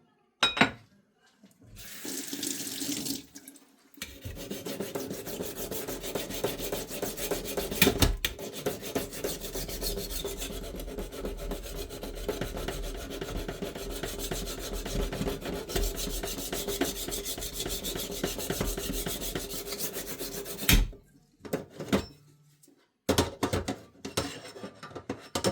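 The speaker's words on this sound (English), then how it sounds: "I'm just gonna show you how it is, the process of sharpening." A low-cost kitchen knife is drawn across a sharpening stone in steady, close rasping strokes that run almost continuously for about seventeen seconds, with short pauses before and after.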